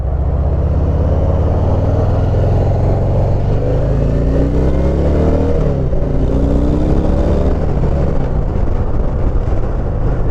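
A Harley-Davidson Heritage Classic with the 114 cubic-inch engine accelerates, its loud deep rumble rising in pitch as it pulls hard, continuous and close with no talking.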